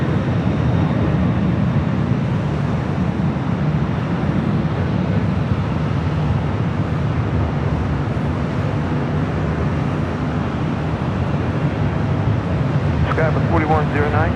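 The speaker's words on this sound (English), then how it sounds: "You have an ABX Air 767 rolling down 25 right there on the south side." An ABX Air Boeing 767 rolls down runway 25 right at LAX for takeoff, a broad, continuous jet roar heard from a distance that holds steady throughout.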